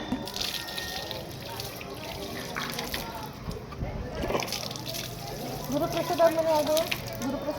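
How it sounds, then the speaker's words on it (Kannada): Water splashing and trickling as feet are washed outside a temple, uneven sloshes and running water heard close, mixed with people talking nearby. "ಕಾಲು ತೊಳ್ಕೊಂಡು ಹೋಗ್ತಾ ಇದ್ದೀವಿ"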